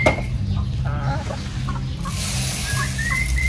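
Several chickens cluck nearby in short repeated bursts, over a constant low background hum.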